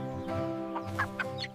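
Cartoon farm chicken clucking, voiced by a performer imitating the hen, gives a short run of quick, close clucks with rising squawky notes.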